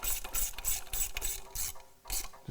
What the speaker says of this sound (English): We're just going to take and thread the bolts up in there and run those up.